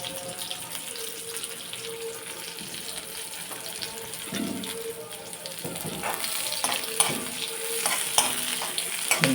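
Onion pieces go into hot oil in a pan, a soft continuous sizzle that grows busier and crackles more toward the end, with faint clinks and stirring, near and without voices.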